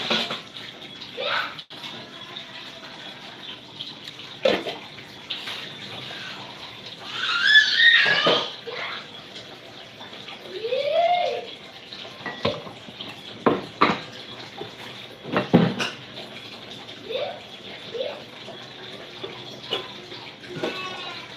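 Water runs and splashes into a cooking pot of salted beans in a home kitchen during dinner preparation, flowing in several bursts with pauses between, fairly close, with brief voice sounds in between.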